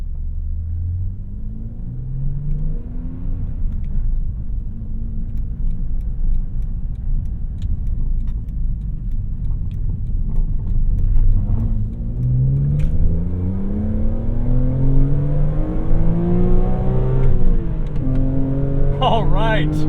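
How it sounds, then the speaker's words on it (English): A 2007 BMW Z4 M Coupe's straight-six engine hums from inside the cabin, rising smoothly through revs in long steady pulls under a constant road rumble. "BMW straight six smoothness and that linearity and sound build, I like."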